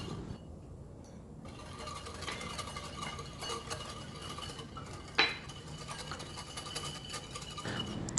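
Stirring to dissolve sugar in fresh milk in a bowl: a utensil scrapes and clinks softly and steadily against the bowl, close and quiet, with one sharper knock near the end.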